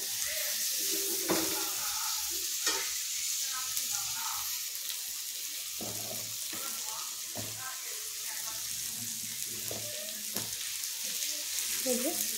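Ginger, tomato and green chili frying together in a pan with salt and chili powder, a steady bright sizzle and hiss with intermittent stirring scrapes and clatter; faint voices surface at moments.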